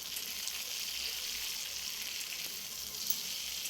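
A few garlic cloves and two green chillies fry in a pan, giving a steady, close hiss of sizzling oil with faint crackles and no other sound.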